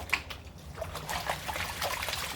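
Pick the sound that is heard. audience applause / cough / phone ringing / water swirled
water swirled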